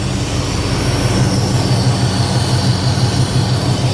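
A 455 big block V8 idles in a G-body car just after an intake gasket replacement, giving a loud, steady, even rumble that continues without a break and with no voices.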